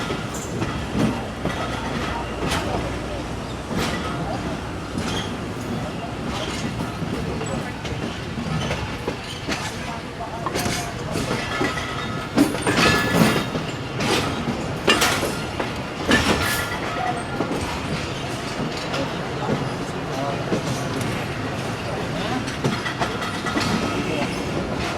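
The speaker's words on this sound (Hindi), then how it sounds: "रहमान बाबा आहिस्ता आहिस्ता से वज़ीराबाद जंक्शन के रेलवे यार्ड को क्रॉस कर रही है" The Rehman Baba Express passenger train crossing the railway yard at Wazirabad Junction in Pakistan, a continuous loud rumble with repeated rhythmic clicks and clacks of wheels over rail joints, steady throughout.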